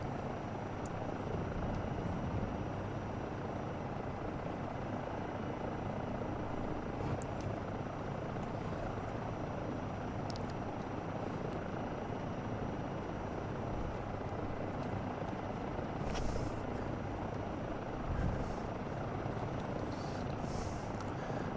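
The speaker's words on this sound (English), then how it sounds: "I just want to get into the city with the helicopter" A helicopter in Microsoft Flight Simulator drones steadily for a long stretch, its rotor and engine hum constant and fairly loud, with a few faint clicks on top.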